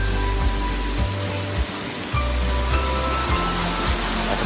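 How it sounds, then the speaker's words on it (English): Pala Munsoh Waterfall in Sarawak, Malaysia roars in a dense, continuous hiss, steady and loud up close, with low thumping bursts from wind buffeting. "Waterfall."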